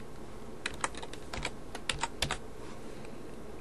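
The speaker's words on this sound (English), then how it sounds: "go to start menu, type in Stardock" Keystrokes tap on a computer keyboard while installing a Windows 7 desktop theme, quick irregular clicks in short bursts against a quiet room, nearby and alone.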